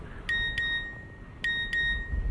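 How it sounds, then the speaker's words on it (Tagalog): Two quick pairs of high electronic beeps from a phone signal an incoming text message, clear and close over a low background hum with no talking. "may nag-text yata sa'yo"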